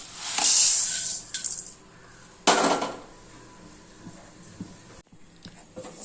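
Pearl millet grains poured into a pan on a lit stove for dry roasting, giving a bright rattling hiss near the start, then a second loud burst of pattering grains with faint clinks after.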